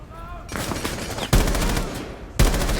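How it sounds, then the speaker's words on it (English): Full-auto gunfire in Rainbow Six Siege, three loud sustained bursts of rapid shots in close succession with brief pauses between them, dominating the mix. "on full auto, this gun does rear up quite a bit."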